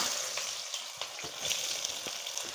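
Chopped onions dropped into hot oil for a chicken and broad bean stir-fry, a steady close sizzle with light crackles and a few soft stirring scrapes, no talking.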